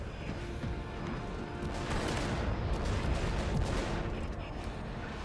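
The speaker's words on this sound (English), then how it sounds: "I thought the guy was shooting behind me." Constant, dense gunfire and explosions in the online shooter Warhammer 40,000: Eternal Crusade, a loud, unbroken roar of battle with no pauses.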